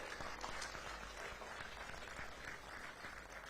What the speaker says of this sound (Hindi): एक बार पूरा सदन जोरदार तालियां बजाए